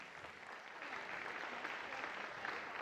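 A circus crowd applauds steadily, dense clapping that swells slightly after the first second and continues to the end.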